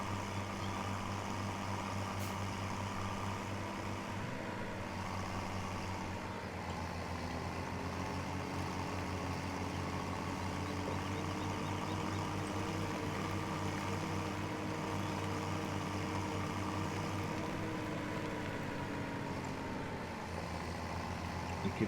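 A tractor engine in Farming Simulator 17 driving steadily, a constant low droning hum with a slight pitch shift partway through, heard alone and unbroken throughout.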